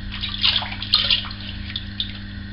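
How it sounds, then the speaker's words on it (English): Water splashes against a face by a running tap before a shave, several close wet splashes and trickles over a steady low hum, with no voices. "Get a little water on the old face."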